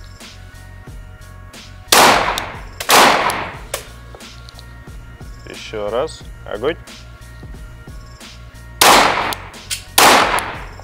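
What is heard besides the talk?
gunshots at practical shooting training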